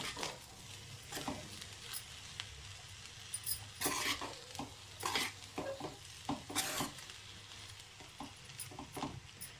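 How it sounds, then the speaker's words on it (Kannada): Pea rice bath with coriander leaves stirred in a pan, close up, a spoon scraping and clinking irregularly against the metal over a soft, steady sizzle. "ಸ್ವಲ್ಪ ಕೊತ್ತಂಬರಿ ಸೊಪ್ಪು ಈಗ ನೀಟಾಗಿ ಮಿಕ್ಸ್ ಮಾಡ್ಕೊಳ್ಳೋಣ"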